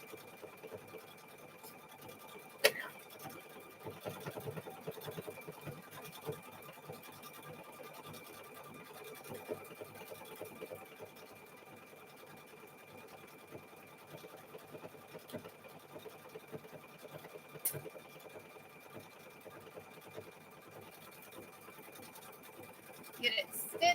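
A sewing machine stitches along the edge of a quilt, a faint continuous run of stitching with a few sharp clicks scattered through, heard quietly and alone.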